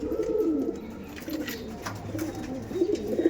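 Madras pigeons coo at close range in a pigeon-selling setting, low rolling coos repeating in bursts across the clip with soft background noise and no speech.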